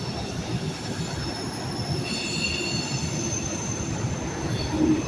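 A freight train rolls past on one of the last remaining freight lines outside Knoxville, wheels squealing in high sustained tones over a steady low rumble and clatter of cars, loud and close throughout.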